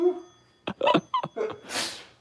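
A series of short snorting breaths builds into one sneeze, ending in a breathy hiss, set off by dust in a clock shop.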